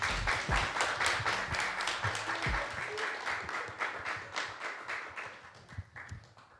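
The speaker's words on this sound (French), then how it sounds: "On peut applaudir, je pense, dans le studio." Studio audience applauding on a French TV show, a dense burst of clapping that starts strong and gradually thins and fades over several seconds, with faint voices beneath.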